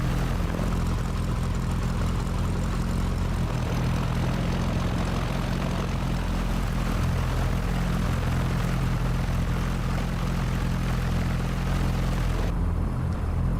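A modified Cessna propeller plane in a flight simulator drones steadily, its engine and airscrew producing a constant, loud, even hum that barely changes and then briefly shifts near the end, with no talking.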